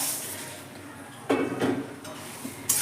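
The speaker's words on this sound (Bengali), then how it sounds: "এবার আমি দিয়ে দিচ্ছি মুড়িটা" Puffed rice pours into a pan of oil with fried cumin and poppy seeds, making a sudden rustling, crackling rush that fades, then a second short scrape or clatter of the pan.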